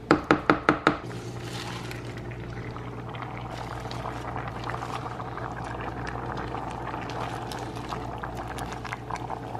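A pot of lentil soup with spinach simmers in a soft, continuous bubbling burble. A few sharp knocks open the sound, and the bubbling then goes on alone at a low, even level.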